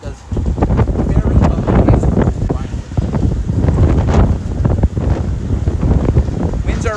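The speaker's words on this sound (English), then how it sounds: "Very strong winds are coming in right now." Powerful squall-line wind gusts ahead of a thunderstorm in New York City rush and buffet the microphone continuously, loud and turbulent, with a voice briefly heard amid the roar.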